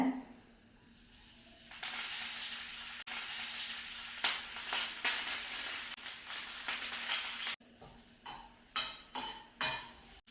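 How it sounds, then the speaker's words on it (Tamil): Grated coconut dry-roasted golden in a pan, a soft crackling sizzle under repeated scraping and clinking strokes of a spoon, the stirring growing sharper and more spaced toward the end, no talking. "இப்போ வந்து நம்ம வந்து இந்த தேங்காவை பொன்னிறமாக வறுத்துக்கலாங்க"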